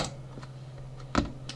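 Computer keyboard keys pressed for a shortcut while coding Java in an IntelliJ editor, heard as a few faint, sparse clicks with one sharper keystroke near the end over a low steady hum.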